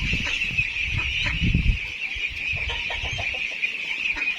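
Roosters cluck and crow nearby on a farm, with repeated short clucks over a steady high insect-like drone in the background.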